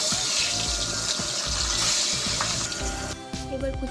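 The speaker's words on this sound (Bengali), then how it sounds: "মাছগুলো ভেজে নেব।" Fish frying in hot oil in a pan for a fish curry with luffa and potato makes a loud, close, steady sizzle that drops and thins out near the end.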